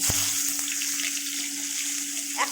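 Shing fish frying in hot oil in a wok, a soft, continuous hiss with a low steady hum underneath and a couple of faint clinks.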